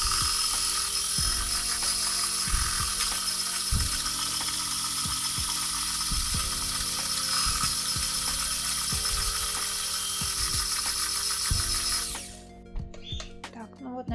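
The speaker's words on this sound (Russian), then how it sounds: "Но вот мы еще продолжим взбивание." Electric mixer whipping butter for a Prague cake, a loud continuous mechanical whir with rhythmic ratcheting pulses for about twelve seconds before it stops abruptly.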